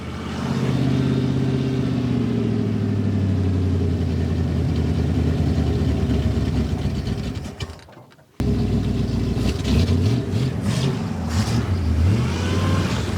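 An old car idling roughly in sub-zero cold after a cold start with the choke coil not yet warm, a loud steady engine drone that sags and cuts out near the end, then restarts with uneven revving.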